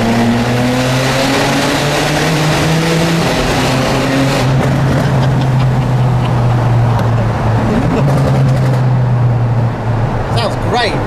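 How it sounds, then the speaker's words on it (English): A Porsche 991 Turbo S fitted with a Capristo exhaust roars loudly through a tunnel, its engine note rising and falling with revs and crackling toward the end, while people talk over it. "Capristo exhaust."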